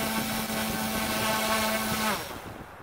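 Electric motor of a Volantex ASW-28 RC glider running at full throttle, a close, loud, steady high-pitched whine that holds and then drops away as it spools down.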